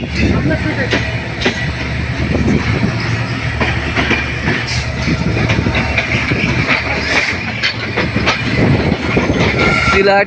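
An express train rumbles past up close near Natore Junction, Bangladesh, with rhythmic clickety-clack of wheels on rails, hissing and occasional squeals, loud and continuous, with voices underneath.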